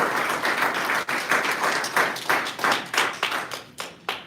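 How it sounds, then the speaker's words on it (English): An audience at a congressional briefing on gun violence claps for a panelist, a moderate round of applause with distinct individual claps that tapers off in uneven bursts as it dies down. "Please give him a round of applause."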